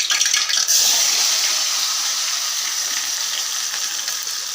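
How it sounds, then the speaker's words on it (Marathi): Bitter gourd fries in hot oil with a loud, dense, steady hiss that stays constant throughout, close up with no voices. "सगळ्यात आधी आपण कारल्यांना तळून घेऊ"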